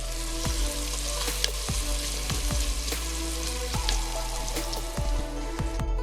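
Chopped onions fry steadily in hot oil toward light brown, giving a dense, close, continuous crackling sizzle with scattered pops and occasional ladle taps against the pan, no talking.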